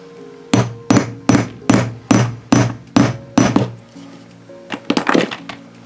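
A metal snap fastener setting tool is struck with a hammer on felt: seven sharp, evenly spaced blows, loud and close, then a few lighter quicker taps at the end.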